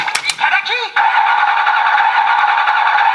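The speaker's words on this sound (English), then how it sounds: "Yeah, car revving, standby sound" A Kamen Rider Revice DX Osutoderu Hammer 50 toy's electronic voice and beeps give way to a steady, buzzing synthesized car-engine standby revving loop, loud and close.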